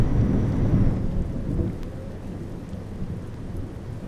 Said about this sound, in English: That thunder sounds really good.